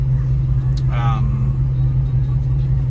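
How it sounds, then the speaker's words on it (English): A 1990 Ford Mustang GT engine idles at about 600 RPM with a steady low rumble throughout, a brief faint higher sound rising over it near the middle. "It idles at about 600 RPM, 5 to 6, sounds really good."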